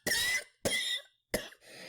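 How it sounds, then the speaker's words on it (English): Three harsh coughs in a row, close and dry, with short pauses between them and a breathy rasp at the end. "How long have you had that cough?"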